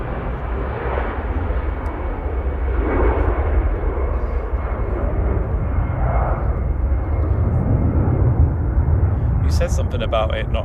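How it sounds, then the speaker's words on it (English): An easyJet airliner departs Manchester Airport for Amsterdam, its engines a broad, steady roar held at a constant level throughout, heard from a distance. "EasyJet off to Amsterdam GZOP flight"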